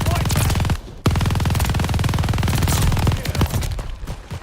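An MG42 machine gun in Call of Duty Vanguard fires long, rapid automatic bursts, loud and close, broken by a brief pause and ending with a few trailing shots.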